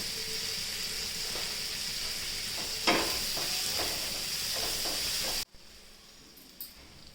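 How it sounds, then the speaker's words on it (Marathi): Spices and coriander powder sautéing in a hot pan, a steady close sizzle with a few stirring scrapes, cutting abruptly to a much quieter hiss near the end. "एक चमचा धना पावडर घालायची मसाले चांगले परतून घ्यायचे"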